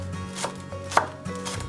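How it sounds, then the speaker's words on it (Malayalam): Green chillies are chopped finely with a knife in quick, close, crisp chops: a handful of sharp knocks spaced unevenly across under two seconds, with no talking. "ഇതുപോലെ ചെറുതായിട്ട് അരിഞ്ഞെടുക്കാം."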